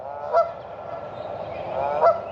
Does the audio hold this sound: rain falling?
no